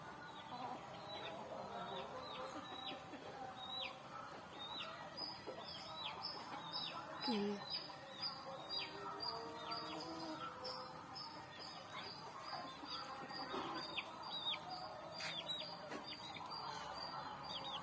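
Domestic backyard chickens raised at home cluck steadily at close range, with soft calls and chirps layered over a busy outdoor background, and no one speaking.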